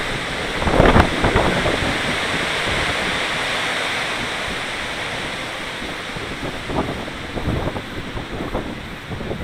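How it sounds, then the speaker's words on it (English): Strong wind gusts buffet the microphone during a DJI Spark drone flight in sport mode, a loud continuous roaring rush with a few stronger gusts swelling through it. "see how you hear the gusts coming?"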